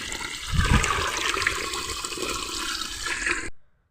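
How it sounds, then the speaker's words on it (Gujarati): Irrigation water gushes strongly into a fennel field, a loud, steady close-up rush with a heavier surge near the start before it cuts off suddenly. "પહેલું પાણી ચાલુ થઈ ગયું છે"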